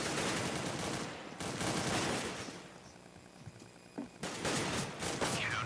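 Rapid automatic gunfire from a high fire rate weapon in the video game CS:GO comes in loud sustained bursts, with a brief dip in the middle before the firing resumes.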